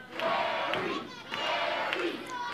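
A wrestling crowd at an indoor independent show chanting a wrestler's name in a steady two-beat rhythm, loud and reverberant, filling the hall with no commentary over it.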